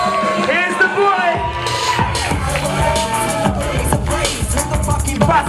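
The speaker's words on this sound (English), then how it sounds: "So let's get a massive round of applause for Skrazie." Crowd at a hip-hop launch event cheering and applauding for the performer Skrazie, with loud whoops, shouts and yells over a busy roar of voices and clapping, close and energetic throughout.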